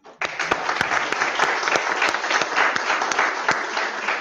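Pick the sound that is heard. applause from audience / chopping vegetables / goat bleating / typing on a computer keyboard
applause from audience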